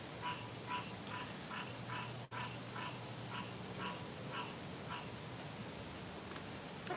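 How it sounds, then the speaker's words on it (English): A frog croaks outdoors in a quick, regular series of short calls repeating for several seconds over a low background hum, moderately close and clear, with no voices. "There's a frog."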